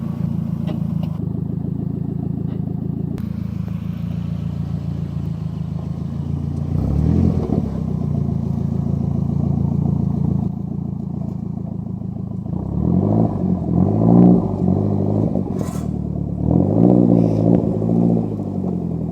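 A Nissan 240SX rolls over curb ramps into a steep driveway. Its engine rumbles low and steadily, with throttle swells and a few clattering bumps toward the end, and no voices.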